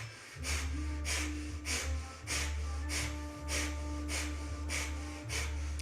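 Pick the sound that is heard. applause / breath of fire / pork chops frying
breath of fire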